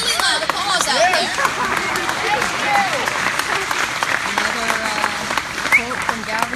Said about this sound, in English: that should have been a really loud applause out there